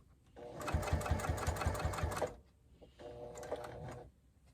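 A sewing machine quilts stitches on a fabric microwave bowl cozy in two close bursts, a longer run and then a shorter one after a brief pause.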